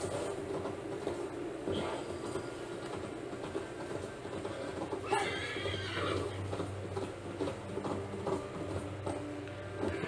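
A horse in the Assassin's Creed video game whinnies partway through, set against a continuous bed of game ambience and rumbling movement that runs steadily for the whole ten seconds.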